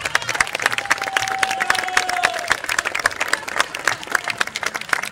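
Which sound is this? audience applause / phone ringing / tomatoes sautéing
audience applause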